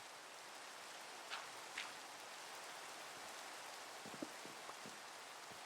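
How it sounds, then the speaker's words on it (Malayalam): Steady rain falling in the Minecraft game world, a soft even hiss of droplets that continues throughout, with a few faint brief taps and clicks over the top. "മഴ, എപ്പിസോഡ് മൊത്തം മഴ"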